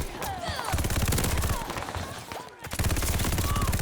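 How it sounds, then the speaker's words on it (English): A light machine gun firing in Call of Duty Vanguard, rapid sustained bursts of loud automatic fire with a brief pause midway, layered with game effects and some voices. "As a light machine gun, this feels like a heavier AR."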